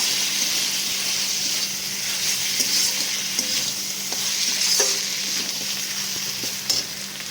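Mutton trimmings and fat stirred in a hot pan, a steady close sizzle and frying hiss running throughout with occasional scrapes of the spoon against the pan.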